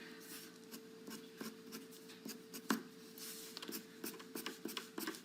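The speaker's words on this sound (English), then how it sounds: "I'm going to show you what it looks like with a colored pencil." A colored pencil scratches short strokes on paper to draw little fur lines, a close, quiet run of rapid rasping flicks over a faint steady hum.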